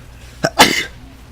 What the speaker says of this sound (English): That was a good sneeze right there.